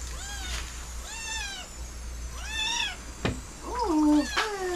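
A pet kitten meows repeatedly up close, a series of short rising-and-falling cries followed by a longer, more insistent meow, with no talk over it.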